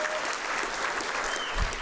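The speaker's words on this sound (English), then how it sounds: "I would like to have a round of applause" Applause from a physics symposium audience fills the room, steady and dense throughout this short burst, with no one speaking over it.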